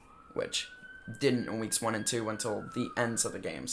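Emergency vehicle sirens outside hold a long, steady wailing tone in the distance, running beneath someone talking continuously.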